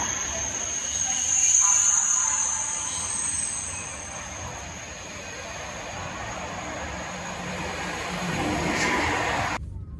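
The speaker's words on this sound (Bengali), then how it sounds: "এটা TGB superfast train, almost 350 kilometre স্পিডে দৌড়ায় ট্রেনটা।" A TGV high-speed train arrives at a station with a sustained rumbling roar that swells and fades over several seconds, blending with broad station ambience before ending abruptly.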